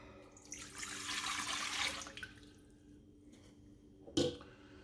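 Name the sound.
water running from tap for sourdough bread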